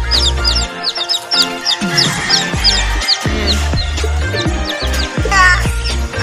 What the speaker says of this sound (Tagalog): Ayun guys, ayan na yung mga kalapati natin.